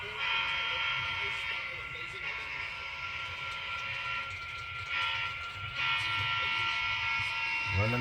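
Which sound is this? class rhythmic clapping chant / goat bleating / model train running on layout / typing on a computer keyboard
model train running on layout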